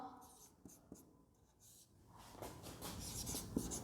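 Chalk or marker scratching across a board during a Class 10 maths lesson on trigonometric ratios, with short strokes and taps that grow denser and louder toward the end, close and alone without talk.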